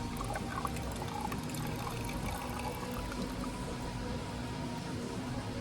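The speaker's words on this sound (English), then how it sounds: "Pour it off in here, our temporary stock pot" Hydrochloric acid gold solution poured off into a temporary stock pot during gold refining, a steady close trickle and splash of liquid running evenly throughout without pause.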